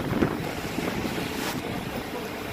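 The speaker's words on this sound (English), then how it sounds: "It's windy out here." Steady, loud wind buffeting the microphone outdoors, a continuous rushing roar with gusty swells and no voices.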